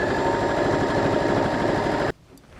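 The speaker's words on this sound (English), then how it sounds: "So I'm just going to quickly stitch around here with a straight stitch." A sewing machine runs a straight stitch along a doll's tunic in one fast, continuous burst of rhythmic needle chatter close by, then stops abruptly, leaving faint quiet clicks.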